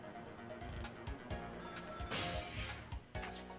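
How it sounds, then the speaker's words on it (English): A telephone rings in the Ghost Trick: Phantom Detective video game, a steady electronic ring layered over busy game music and effects, fairly loud throughout. "wait for him to pick up the phone, Marty"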